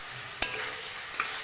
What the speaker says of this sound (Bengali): এবার কষিয়ে নেব।